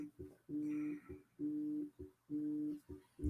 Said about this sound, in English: There's my phone beeping again for me.